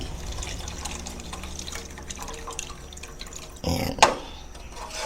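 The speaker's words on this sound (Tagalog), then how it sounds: "Sinamahan ko na po ito ng konting tubig." Water is poured from a small container into a pot of batchoy tagalog with pork liver and blood, a brief splashing pour near the end after quiet kitchen clatter and faint dripping.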